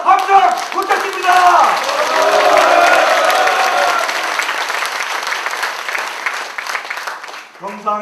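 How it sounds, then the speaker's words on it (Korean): Loud rally crowd in Gangwon erupts in sustained applause mixed with shouts and cheering, a dense wall of clapping that gradually thins toward the end, with a brief voice at the close. "동지 여러분 동의하시면 힘찬 박수 함성 부탁드립니다"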